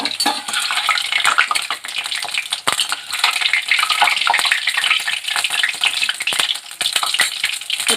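Onion vadas deep frying in hot oil, a steady dense sizzle and crackle with occasional clinks of a metal utensil against the pan, close and continuous with no talk.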